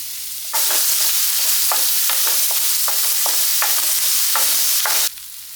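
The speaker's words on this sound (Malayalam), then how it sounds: "ഉള്ളിയും പച്ചമുളകും അത് വഴറ്റിയെടുക്കാം" Onions and green chillies sauté in hot coconut oil, a steady close sizzle broken by repeated scraping stirs for about five seconds before cutting off abruptly.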